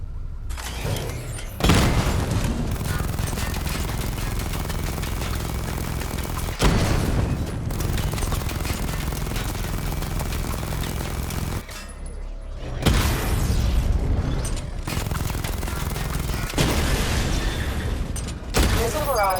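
Batmobile weapons in Batman: Arkham Knight: a continuous, dense barrage of missile explosions and rapid gunfire, loud and sustained, with brief lulls between heavy booming volleys.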